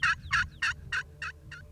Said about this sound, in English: One just gobbled right there.